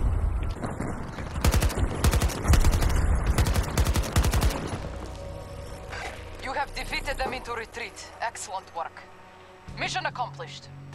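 Rapid automatic gunfire from Battlefield 2042 gameplay, dense loud bursts for the first few seconds, then sparser shots and in-game effects while a voice talks over the action.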